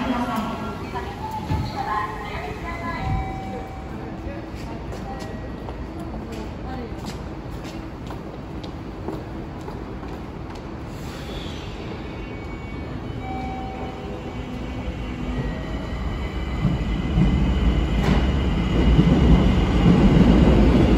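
Tokyo Metro Ginza Line subway train running near Shibuya Station, a continuous loud rumble of wheels and motors that swells toward the end as the train draws closer, with a voice talking quietly beneath.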